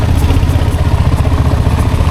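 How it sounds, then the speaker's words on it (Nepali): A motorcycle rides off-road over dusty, stony ground, its engine a loud, close, steady throbbing rumble with rattling clatter and no voices. "बाबा धुलो उडाएको बाइकले"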